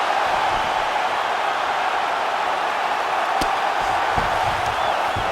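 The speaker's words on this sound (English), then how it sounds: "huge pop from the crowd as the fighters get back up to their feet" Steady crowd roar from a UFC 5 video game arena during a Khabib Nurmagomedov versus Anderson Silva bout, a dense wash of cheering that holds level throughout with a couple of brief sharp sounds cutting through.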